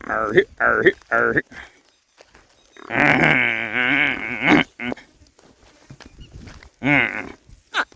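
A buffalo lows once in a drawn-out call at close range on a farm, with people talking in short bursts before and after.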